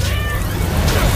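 A cartoonish Spider-Cat from the Spider-Man: Miles Morales game gives a single short, close meow, loud and clear over a busy backdrop of game sound.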